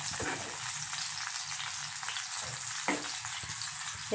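Green chillies fry in hot oil, a continuous dense sizzle with crackling spatters and a few stirring clinks, steady and close.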